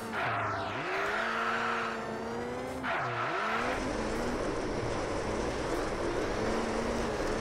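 A rally car in Richard Burns Rally drives through a driving-school exercise, its engine note rising and falling through gear changes with brief tire squeals, loud and continuous with no talk.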